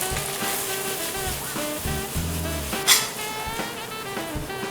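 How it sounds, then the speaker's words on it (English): Squid frying in a pan with a steady, close sizzle of hot oil, punctuated by brief crackles and pops and a few clinks of utensils stirring. No voices are heard. "We've got the squid cooking at the moment, so we're almost finished off."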